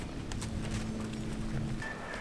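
Young horse being ridden at a walk, hooves clip-clopping in a steady, fairly close rhythm over a quiet outdoor background.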